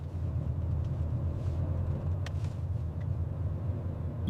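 A motorbike ridden through a village gives a steady low engine rumble that stays close and even throughout, with no voices.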